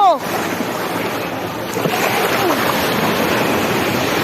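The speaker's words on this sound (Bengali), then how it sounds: "দেখুন ঢেউ, সমুদ্রের ঢেউটা দেখছেন" Ocean surf at Cox's Bazar rushes and churns close by, a loud continuous wash of waves with wind buffeting the microphone and a brief voice at the start.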